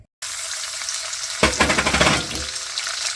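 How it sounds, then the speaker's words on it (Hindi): Almonds sizzle in hot ghee in a kadhai, a loud close frying hiss that flares into a crackling burst as they go in, then settles into a steady bubbling sizzle. "कढ़ाई में हमने थोड़ा सा घी लिया है, 2-3 टेबल स्पून। उसमें हम जो बादाम गिरी वगैरह फ्राई करेंगे।"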